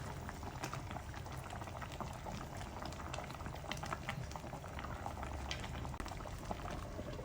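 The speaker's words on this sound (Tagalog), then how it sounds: "Tapos takpan at pakuluin saglit hanggang medyo lumambot na yung talong." Sinigang soup with milkfish and eggplant boils steadily in a pot, a continuous soft bubbling and gurgling that stays even and close throughout, with no voices.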